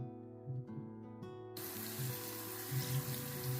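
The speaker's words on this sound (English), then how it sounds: "You'll hear the water." Tap water runs steadily into a sink for face washing at home, a soft broadband rush that starts abruptly partway in and continues to the end over a low background hum.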